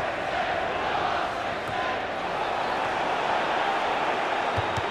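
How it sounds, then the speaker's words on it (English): Stadium crowd in FIFA 15 during a Manchester City versus Liverpool match, a steady, dense roar of jeering and shouting that holds at the same level throughout. "this crowd making their feelings known about one of the visiting players"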